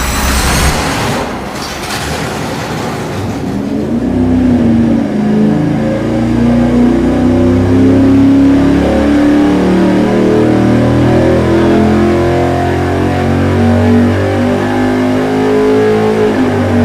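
Race engine on a dyno firing up after a brief starter crank, then roaring loudly and revving with a rising, steady drone that fills the space, close and powerful throughout.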